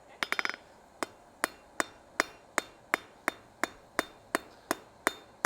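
Hammer blows forging hot steel on an anvil while shaping a decorative hacksaw: a quick flurry of light taps, then a steady rhythm of sharp ringing strikes about every third of a second, close and clear.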